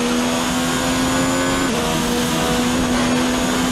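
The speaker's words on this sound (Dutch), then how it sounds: "En dan is het hier dus weer de Ferrari motor die zijn ding doet." The Ferrari engine of a Formula 1 car in the F1 2019 racing video game drones as a loud, steady high-pitched whine with one brief gear-shift dip midway, running alone without voices.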